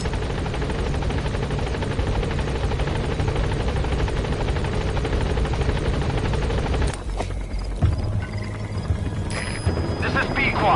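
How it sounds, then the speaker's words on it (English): A video-game helicopter's rotor chops steadily and loudly as it arrives, a continuous dense thrum that briefly thins out partway through while other faint game sounds and tones come and go. "Get on the chopper."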